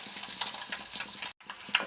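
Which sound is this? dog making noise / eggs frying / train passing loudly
eggs frying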